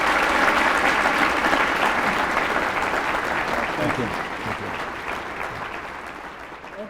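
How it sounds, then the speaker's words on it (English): A large audience at a broadcasting awards ceremony gives loud, sustained applause that eases slightly toward the end, and a voice briefly speaks over it. "Let's give him a round of applause"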